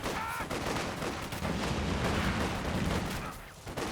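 Gunfire from Company of Heroes 2 crackles in dense, overlapping bursts of small-arms and machine-gun fire, continuous and moderately loud across the whole moment with no talk over it.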